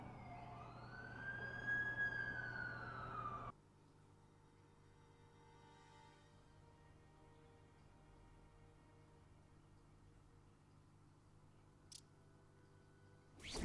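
Ambulance siren in The Amazing Spider-Man 2 video game: a loud wailing siren sweeps up and down nearby for a few seconds and then cuts off abruptly, leaving a quiet, steady hum with a brief click later on.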